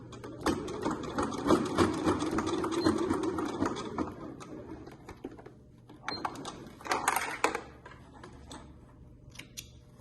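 A sewing machine stitches waterproof twill fabric for a scissor holder, finishing with a backstitch: a fast motor whir in bursts that pause and restart, close and moderately loud, without speech.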